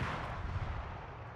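Heavy rumbling naval gunfire from a ship firing shells in a naval combat video game, a dense, continuous boom filling the short moment with no voices.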